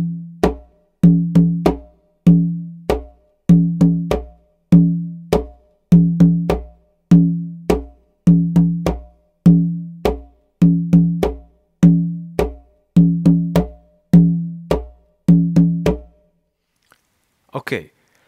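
A bomba drum plays the cuña rhythm at a moderately slow tempo, with a steady cycle of deep open tones and sharp hand slaps repeating evenly. The drum is close and alone, and the pattern stops near the end.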